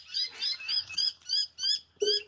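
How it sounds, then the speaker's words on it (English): Noisy miner birds call from a small tree outside, a run of loud, harsh, rapid chattering notes close by. "that'll be some noisy miners up in this little tree"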